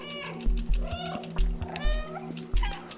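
A cat in the video game Stray meows repeatedly, with several short, clear calls spaced about half a second apart over a low, humming game backdrop.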